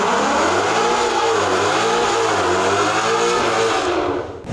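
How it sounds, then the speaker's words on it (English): A custom Mustang drag car engine fitted with exhaust and intake revs hard and close, its deep throaty roar rising and falling steadily for several seconds with no talk over it. "Oh yeah, that sounds way better with exhaust and intake."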